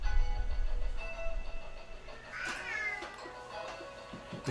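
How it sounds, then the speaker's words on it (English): A small kitten cries with several repeated meows, close and fairly loud, over low background noise in a room. "The cat's crying in the back."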